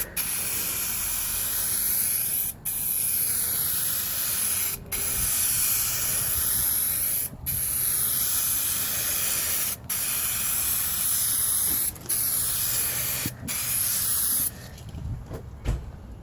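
A spray gun lays glossy clear coat on the driver's quarter panel of a 2003 Cadillac CTS, a loud steady hiss in long passes broken by brief pauses, outdoors in wind.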